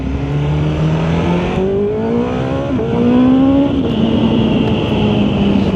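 An inline-four motorcycle engine revs while riding, its loud, steady note climbing in pitch through several rising sweeps and short shifts, heard up close with wind rush underneath.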